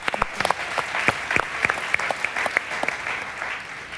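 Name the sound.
audience applause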